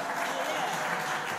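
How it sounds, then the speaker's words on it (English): Audience applause for a string band's sound engineer during a live concert: a steady, dense wash of clapping lasting the whole moment, with some crowd voices mixed in. "How about a big round of applause for Bruce here"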